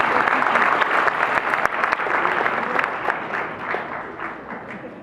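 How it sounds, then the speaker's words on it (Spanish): Warm applause from a conference audience welcoming a speaker before a lecture on psychogerontology; dense, even clapping that gradually thins out over five seconds. "Le damos un caluroso aplauso de inicio."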